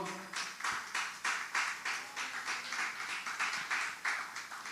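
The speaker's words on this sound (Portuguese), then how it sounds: "Vamos dar uma linda salva de palmas ao Senhor." A church congregation claps, rhythmic and fairly even, about two beats per second, moderately loud and close, with little else behind it.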